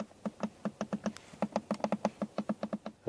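A rapid run of crisp plastic clicks from a car's rear climate control buttons, around twenty of them in quick uneven succession, close and clear with no talking.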